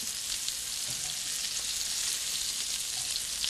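Turkey meatballs fry in hot oil, browning and crisping, with a steady dense sizzle and crackle throughout, close and fairly loud, with no voices.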